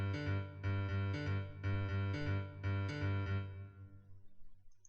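Repeated bassline intro from a Hamilton arrangement, played as a steady pulsing pattern of low notes with bright upper harmonics, looping several times before fading out.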